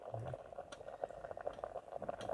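Amla, Indian gooseberries, boil in a pot for a rustic sabzi, giving a faint, steady bubbling with soft irregular pops and no talk.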